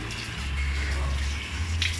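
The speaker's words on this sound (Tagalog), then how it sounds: "Buhusan lang natin ng tubig." Tap water poured over a screen to rinse off softened diazo photo emulsion during screen reclaiming, a steady splashing rush heard up close and alone.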